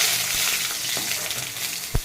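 Two whole dried red chillies, bay leaves and panch phoron spices crackle and sizzle steadily in hot oil as a tempering for sour green mango dal, with one sharp pop near the end.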